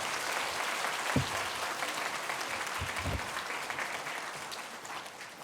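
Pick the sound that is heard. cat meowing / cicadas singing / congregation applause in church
congregation applause in church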